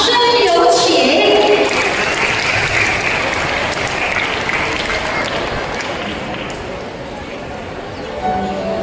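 An audience at a Chinese primary school graduation ceremony applauds loudly and continuously to welcome a Year 2 sign-language dance, the clapping gradually easing, with some voices mixed in.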